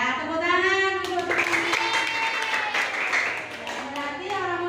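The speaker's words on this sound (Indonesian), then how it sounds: "Ya, tepuk tangan untuk" Brief applause from a class audience during a university teaching-practice lesson, a soft burst of clapping lasting a few seconds beneath a teacher's voice, with talking before and after.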